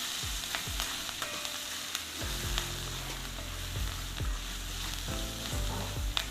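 Onions sauté in a pan for a yam dish, a steady close sizzle with repeated stirring scrapes and knocks of a spoon against the pan.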